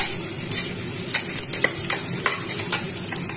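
Onions frying in a pan until light brown for an urad dal khichdi, a steady hiss of sizzling oil with scattered soft scraping taps of a spoon stirring, close and continuous with no talking.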